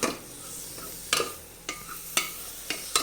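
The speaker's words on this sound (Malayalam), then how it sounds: "നന്നായിട്ടൊന്ന് ഇളക്കാം" Potatoes with green chillies stirred in a frying pan for a potato capsicum masala, a low steady sizzle broken by four or five sharp scraping stir strokes, close by and without voices.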